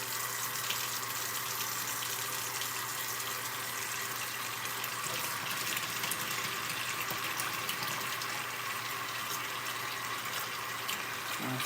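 Running water from a faucet gushes steadily and evenly for several seconds as a real eggshell is rinsed out, a close, continuous splashing with no pauses.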